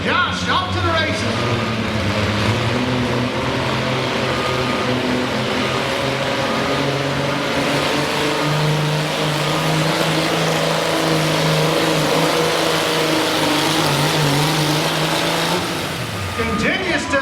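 Pulling tractor at a winter tractor pull in Chatham, Virginia, its engine roaring and revving steadily for the whole run, loud and close, with an announcer talking over it.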